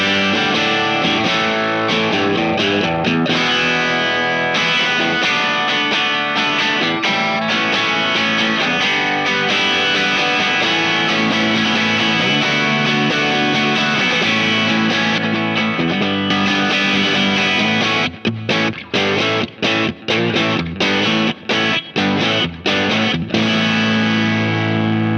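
Fender Aerodyne Special Telecaster played through an rnrmf Bigfoot Drive overdrive pedal: loud, dense distorted chords ringing continuously, ending in choppy, staccato strummed hits, with no talking.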